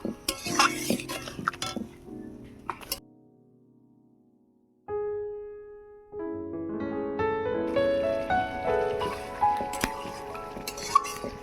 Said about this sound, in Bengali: এবারে আলুটা কষিয়ে নেব